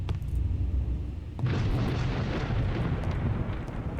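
Thunder in the horror video game Forbidden Terror: a low rumbling roll that swells into a loud, broad crash at about a second and a half, then keeps rumbling heavily, with no talk over it.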